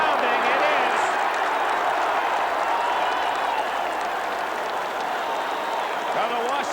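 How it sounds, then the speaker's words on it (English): A large stadium crowd of Washington fans cheers in a sustained roar at the 1981 Rose Bowl football game against Michigan, steady and dense throughout with no break. "the Washington fans cheer"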